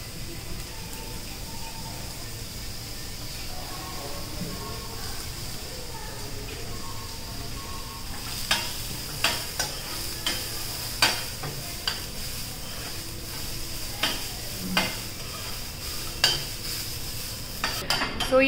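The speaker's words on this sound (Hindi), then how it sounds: "2 से 3 मिनट के लिए हम इसे फ्राई करेंगे।" Ginger frying in a little oil and being stirred in a pan for Kerala-style ginger raita: a steady low sizzle, with repeated spatula scrapes and clinks against the pan in the second half, close by and without speech.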